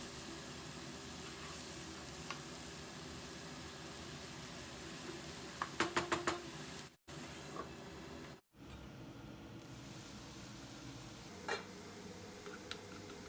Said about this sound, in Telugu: ఒక్క నిమిషం మూత పెట్టి ఈ ఉల్లికారాన్ని ఆయిల్లో ఫ్రై అవనిద్దాము పచ్చివాసన పోయేలాగా